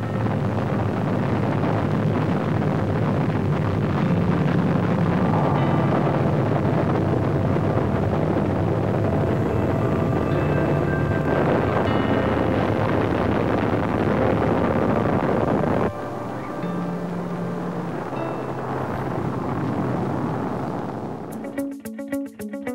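The Apollo 7 Saturn IB rocket roars after ignition at launch: a sustained, heavy rumbling blast that holds for many seconds, softens a little near the end, then breaks into crackling.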